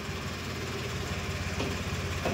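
A 2017 Aprilia SR 150 scooter engine runs steadily after starting, a close, continuous mid-pitched hum with a slight rise in intensity near the end and no talking.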